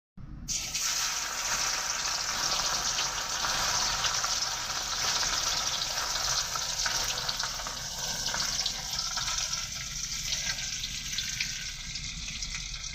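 Paneer frying in hot oil during a truck driver's egg-paneer curry cooking, a steady, loud, close sizzle and crackle that holds through the whole stretch with no talking.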